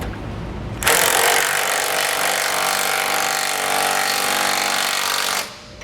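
A wrench or power tool tightens a bolt on the frame rail of a 2016 vehicle during a base plate installation, a loud, steady grinding-buzz that runs continuously for about five seconds with no talk over it.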